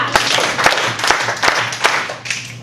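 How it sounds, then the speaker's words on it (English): Children in a classroom storytelling session clap and snap their fingers in a run of about five sharp, fairly close bursts, with faint voices in the background. "5 claps and snaps."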